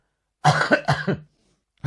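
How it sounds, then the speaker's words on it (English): A single bout of harsh, chesty coughing, three or four rough hacks close to the mic, then silence and the start of another cough. "I've still got a bit of a chesty old cough going on."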